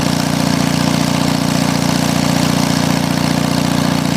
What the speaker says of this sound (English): Engine sounds beautiful.